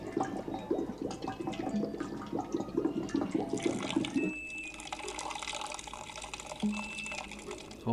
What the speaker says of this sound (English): Holy shit, actual water.